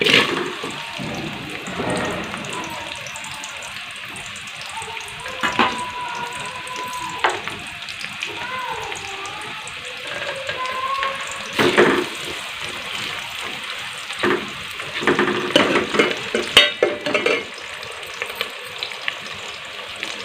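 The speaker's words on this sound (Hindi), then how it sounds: "घी हमारा गर्म हो चुका है, अब हम इसमें प्याज फ्राई कर लेंगे।" Onions fry in hot ghee, a continuous hissing sizzle with watery bubbling underneath, punctuated by a few sharp clicks and stirring knocks, fairly close and steady.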